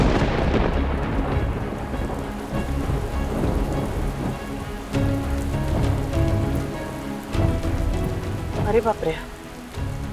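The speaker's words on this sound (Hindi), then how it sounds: "ये तो वैसे ही बेमौसम बरसात है" Heavy thunderstorm with pouring rain: a dense, continuous hiss of rain on surfaces with deep rolling thunder swelling through it, loud and near, while a person briefly exclaims over it.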